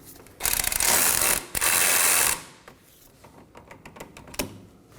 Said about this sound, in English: Once you have enough clearance, finish with your ratchet.